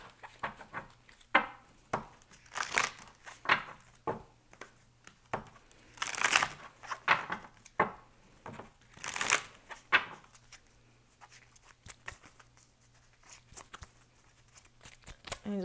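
Indigo angel oracle cards are shuffled in repeated quick riffling bursts, with soft taps and rustles between them, close and crisp in a quiet room.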